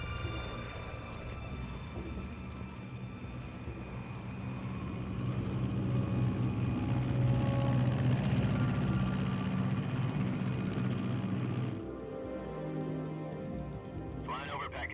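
An aircraft flies in Metal Gear Solid 3, a steady low engine drone with a tonal hum that swells and then shifts character near the end.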